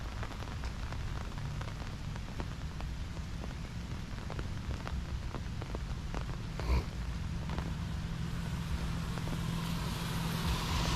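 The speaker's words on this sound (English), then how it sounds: "A little more road noise" Steady low rumble of road traffic with a constant hiss of tires, a passing vehicle swelling briefly midway, no voices.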